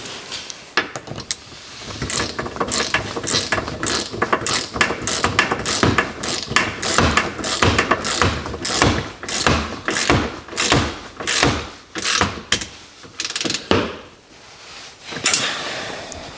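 Rapid ratchet clicks tighten bolts while fitting a sport roof onto a Can-Am Maverick Sport XRC side-by-side, close and loud, in repeated bursts of fast clicking broken by brief pauses, with a few thumps.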